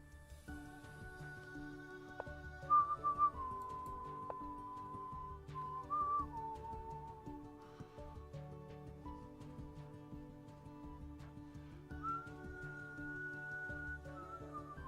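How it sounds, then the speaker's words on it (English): A person whistles a wandering tune close by, with sustained notes and slides that carry on for several seconds over a quiet room during an online chess game. "My apologies for whistling"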